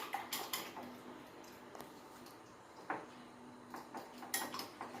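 Egg batter being mixed in a bowl, faint clinking and tapping of a utensil against the bowl in an irregular rhythm, quiet and close, with no talking.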